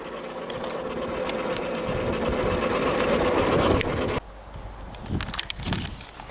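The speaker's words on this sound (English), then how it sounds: "I didn't realise how noisy it is in that tractor" A tractor engine drones loudly and continuously while mowing a hay field, a rough, rattling roar that cuts abruptly to a quieter, uneven rumble near the end.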